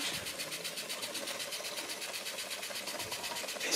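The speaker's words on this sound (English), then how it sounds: "So it's a Weeden number 3 engine built between 1894 and 1940." A Weeden No. 3 toy steam engine, built between 1894 and 1940, runs on a homemade burner, producing a fast, even, mechanical chuffing rattle that is steady and close throughout.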